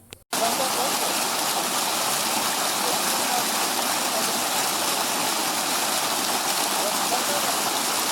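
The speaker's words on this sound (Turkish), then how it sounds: "Burası Ergene Nehri'nin doğduğu su." Water flows at the source of the Ergene River, known as Kaynarca, formerly Yane. A loud, steady broadband rush carries on without a break from start to finish, with no pauses and no voices.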